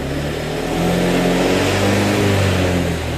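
A motorcycle engine idles loudly then revs up and holds a higher droning pitch, close by and steady, with no voices.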